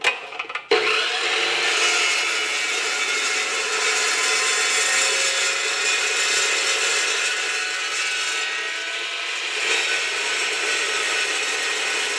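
A chunk of square metal stock is sawn off as a blank for an arbor during a Harley-Davidson Shovelhead chopper build. After a brief clatter, one steady, loud, close grinding cut runs on without a break.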